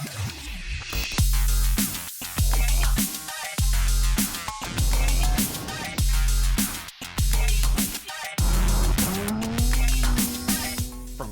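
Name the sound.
AWD Chevy K1500 LS truck sliding on loose gravel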